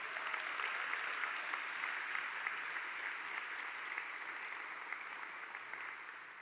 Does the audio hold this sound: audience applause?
yes